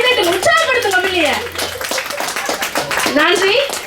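An audience claps for children after a Tamil Christmas drama, a scattered patter of hands running beneath a loud voice speaking over it.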